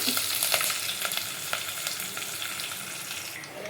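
Curry leaves sizzle and crackle in hot tempering oil for a nalleru chutney, a dense, steady frying hiss with sharp pops scattered throughout and no voices.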